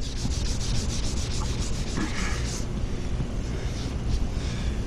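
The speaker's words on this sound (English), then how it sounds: "now we're sanding with 800 wet" Wet sanding car paint with 800 grit sandpaper during a smart repair: a steady, continuous rough rubbing rasp, close and fairly loud, without pauses.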